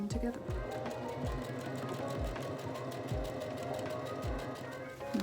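Sewing machine stitching together six cut pieces of corduroy and leopard print fabric for a bucket hat, a steady close whirring hum with regular low thumps as the needle runs continuously for several seconds.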